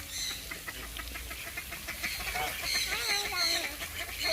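Ducks squabbling over food give close, busy quacks and clucks in quick overlapping bursts, with a few faint voices in the background.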